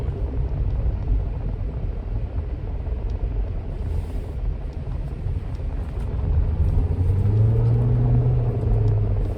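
A Mazda RX-7 rumbles by at close range, a steady low engine drone that swells slightly louder toward the end with a rising tonal hum, no talk over it.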